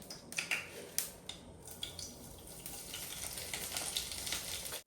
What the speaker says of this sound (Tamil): எண்ணெய் சேர்த்துட்டு சோம்பு சேர்த்துக்கலாம்.